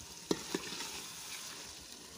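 Chicken karahi gosht sizzling and being stirred in a pan, a steady frying hiss broken by two sharp clinks of a utensil against the pan near the start.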